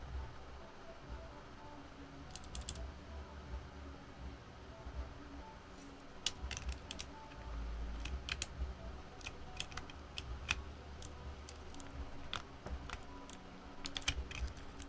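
A computer keyboard's spacebar is pressed again and again, producing a run of close, crisp clicks in irregular bursts over a steady low hum, with no talking.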